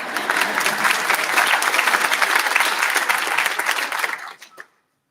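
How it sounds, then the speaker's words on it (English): Audience applause at a high school senior awards ceremony, a sustained crowd of clapping hands that holds steady, then tapers off with a few last claps and stops. "Go ahead, you can applaud by the time."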